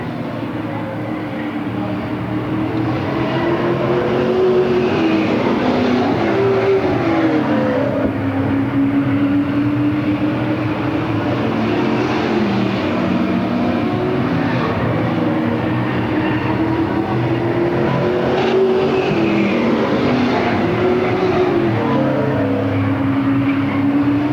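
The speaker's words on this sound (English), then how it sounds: "Jim Whaley's leading this race" Stock cars race on an oval track at a 1993 Octoberfast event in Lakeport, California, with a continuous loud roar of engines whose pitch rises and falls as cars pass.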